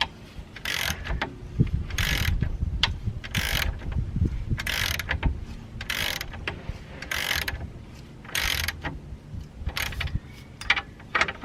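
An old bolt on the rear drop link of an E87 BMW 120d being tightened gently with a ratchet, giving a run of repeated clicking bursts at a steady rhythm, close by, with no talk.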